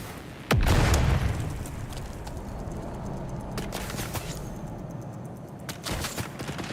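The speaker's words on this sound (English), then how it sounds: "I think he just killed himself with a grenade." A grenade goes off in a video game, a single loud boom at the start followed by a lingering rumble and scattered smaller clicks and pops in the background.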